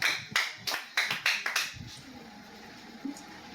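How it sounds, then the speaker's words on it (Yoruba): A group audience claps hands together in a short burst at a Yoruba quiz contest, roughly eight sharp irregular claps over under two seconds, then quiet room hum with a faint tap. "Ẹ bá mi pàtẹ́wọ́"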